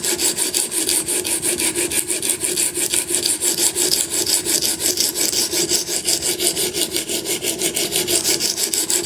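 A knife blade strokes back and forth on an Edge Pro Apex sharpening stone in a steady, rapid rasping rhythm, close and continuous with no voices.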